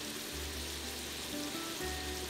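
Peppers, onions and garlic simmer in olive oil in a home kitchen, giving a soft, steady crackling sizzle at low level with a faint hum underneath and no talking.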